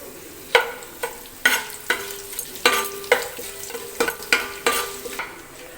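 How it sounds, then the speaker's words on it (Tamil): Dried red chillies, seeds left in, sizzle in a pan for Pallipalayam chicken, with a spoon clanking against the pan in a steady rhythm of sharp stirring strikes over a low background sizzle. "எடுத்து வச்சுருக்க மிளகாயை நான் உள்ளே போட்டுறேன்."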